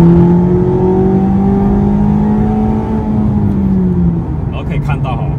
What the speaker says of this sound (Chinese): 然后我们这时候补大油门